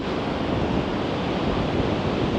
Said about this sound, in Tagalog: Ang lakas kasi naman talaga nung hangin at saka ng alon.